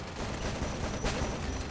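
Gunfire in a ranked battle royale match, a dense steady clatter of shots with one sharper burst about midway, loud and continuous with no talk.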